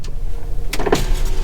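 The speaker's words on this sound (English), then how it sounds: "At least electric windows are all working" Electric windows on an R50 Mini Cooper with a five-speed manual whir briefly, the motor hum rising as the glass moves, close and alone.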